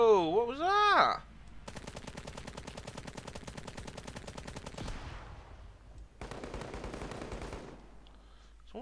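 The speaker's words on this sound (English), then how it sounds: "Someone's shooting rockets at me." Rapid in-game gunfire and rocket launches in the war game Call to Arms during a Russian skirmish mission: a brief voice exclamation, then two long, dense bursts of loud automatic firing separated by a short pause.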